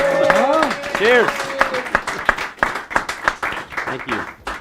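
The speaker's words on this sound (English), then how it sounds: "Ladies and gentlemen, warm round of applause for Mr. Todd Murphy." Clapping for the chamber president at an evening gala, a brief burst of hand claps that thins out into scattered individual claps, while a voice speaks loudly over the start.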